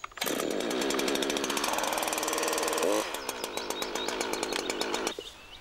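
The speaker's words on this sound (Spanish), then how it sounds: "Siga tirando de la cuerda de arranque hasta que la motosierra encienda. Acelere ahora una vez para que el motor pase al régimen de ralentí." A Husqvarna chainsaw starts up and roars at high revs, then drops to a steady, rattling two-stroke idle before cutting off near the end, loud and close with no talking.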